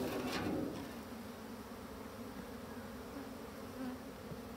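Colony of black honeybees in an opened Dadant hive, a dense continuous buzzing hum heard up close and steady throughout, with no voices.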